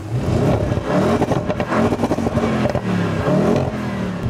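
An Audi S8 Plus, 605 hp quattro, revs and accelerates loudly and steadily, its deep sports exhaust rumble rising and falling in pitch throughout without pause.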